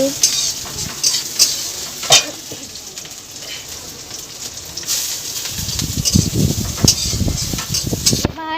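Food sizzling in a pan in a village kitchen while it is stirred, with repeated scraping and clattering strokes that grow busier and louder toward the end over a constant frying hiss.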